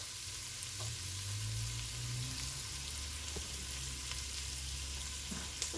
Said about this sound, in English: So you saute this for about 5 minutes